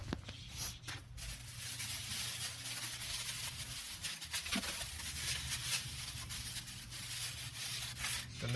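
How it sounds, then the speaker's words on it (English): A plastic bag is rubbed and rustled into place over parts in a car engine bay, close scraping and crinkling strokes in irregular bursts with brief pauses. "So, plastic bag goes on first."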